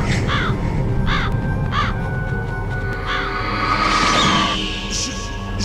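Crows caw repeatedly in a Metal Gear Solid (1998) video game scene, a series of harsh, nasal calls spaced through a dense background of eerie ambient sound and music, fairly loud and close.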